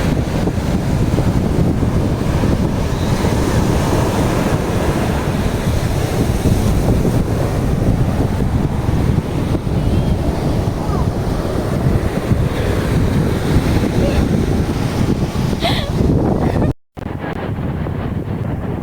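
Rough ocean surf at a beach campsite resort in Infanta, Quezon, a loud continuous wash of breaking waves mixed with heavy wind buffeting on the microphone, with a brief dropout near the end.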